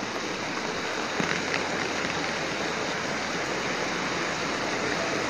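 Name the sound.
heavy rain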